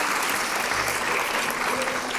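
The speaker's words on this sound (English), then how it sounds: "please join them in a round of applause" Audience applause at a school board of education meeting, steady dense clapping from a crowd filling the room.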